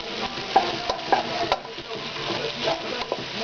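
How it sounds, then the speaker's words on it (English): Sausage frying in a pan and being stirred, a steady close sizzle broken by several sharp scrapes and clinks of the utensil against the pan. "Give me my sausage a stir."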